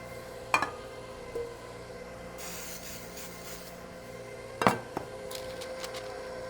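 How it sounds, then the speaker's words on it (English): Soft rubbing and light scraping as grease is spread along the sides of a deep-dish cake pan, with a few sharper clinks, near and quiet, no talking. "We're just going to grease the sides of the pan"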